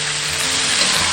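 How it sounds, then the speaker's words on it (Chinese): Beef brisket stir-fried in a wok with star anise, bay leaf, cinnamon, dried chilies and a sauce mixture gives a brief, loud, steady sizzle with a watery hiss and no talking. "翻炒均匀"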